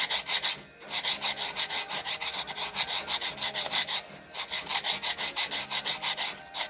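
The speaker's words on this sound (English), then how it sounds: "I keep sanding it down to get to where I need it." Steady back-and-forth sanding strokes on a clay pot, a rhythmic rasping scrape repeating quickly and close, with one brief pause partway through.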